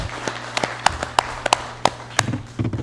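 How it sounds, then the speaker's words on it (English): Sparse, scattered clapping in a legislative session hall, a few hands tapping irregularly and close to the microphone for a few seconds, ending with muffled shuffling. "Can we please give them a round of applause?"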